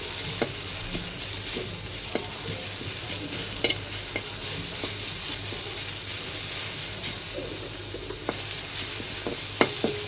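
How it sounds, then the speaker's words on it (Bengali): Onion lightly frying in oil for a jackfruit seed bhorta, a steady close sizzle with soft stirring scrapes and occasional sharper clicks of a utensil against the pan, no voices. "পেঁয়াজ হালকা করে ভেজে নেব"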